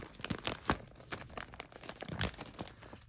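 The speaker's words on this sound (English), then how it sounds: "This is a weird unboxing or unwrapping" A purple hoodie is pulled from its plastic packaging, giving close, crisp crinkling and rustling in irregular bursts over about three seconds.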